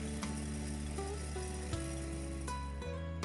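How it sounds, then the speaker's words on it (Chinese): An electric meat grinder minces chopped pork belly with a continuous, close motor whir and low hum, broken by a few faint clicks and clunks. "先切成小块，然后放入绞肉机里，再盖上，打成肉末"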